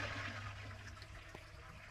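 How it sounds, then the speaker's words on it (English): Toilet tank in a tiny Tokyo apartment flushes and refills through the small sink tap on its lid, a soft, steady rush of running water heard faintly and alone. "when you flush it, the water comes out"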